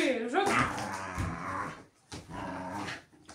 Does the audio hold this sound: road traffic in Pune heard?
no